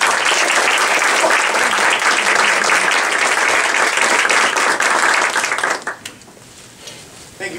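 Loud, dense audience applause welcoming author John Scalzi at a New Hampshire book tour event for Lock In, sustained for several seconds before quickly fading out.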